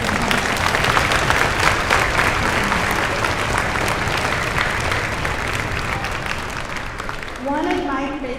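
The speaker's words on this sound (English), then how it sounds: "I would like for all of us to give a round of applause for such a beautiful performance." Audience applause after a performance at a middle school Veterans Day celebration, a dense steady wash of many hands clapping for about seven seconds before fading, with a brief voice near the end.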